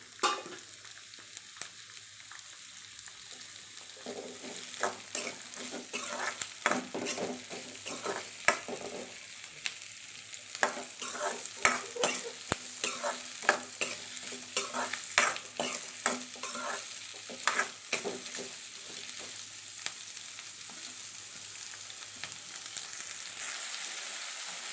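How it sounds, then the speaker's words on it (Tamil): Small onions (shallots) saute in a pan until browned, with frequent rhythmic spoon scrapes and clicks over a low, steady sizzle, close and continuous for the whole stretch. "இதுவும் அதே மாதிரி நல்லா ப்ரௌன் கலராக வதங்குற வரை நல்லா வதக்கிக்கணும்"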